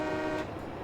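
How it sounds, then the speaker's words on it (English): A train horn in Farming Simulator 22 gives a short, fairly faint toot, one brief tonal blast with a truck-horn quality that fades quickly. "Okay, the train horn."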